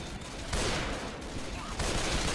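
Gunfire in the video game Left 4 Dead crackles in a dense, continuous fusillade, loud and close, with no clear voices over it.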